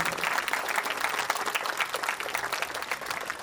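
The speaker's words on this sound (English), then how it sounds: "Can we have clap for yourself, loud applause for yourself, children" A children's audience at an event on artificial intelligence breaks into steady, crowded applause, a continuous patter of many hands at moderate volume with no talking.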